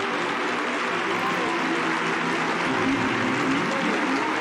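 A church congregation applauding, dense continuous clapping with a crowd murmur that holds at an even level for a few seconds.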